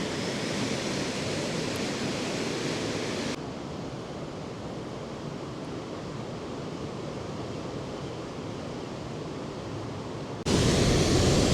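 Cold water rushes down through Marble Canyon in Kootenay National Park, British Columbia, a loud, steady roar, heard up close with no talk. Near the end the level jumps abruptly.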